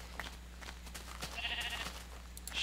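A Minecraft sheep gives a few short, close bleats while it is sheared, with a brief snipping clatter midway and little else around it.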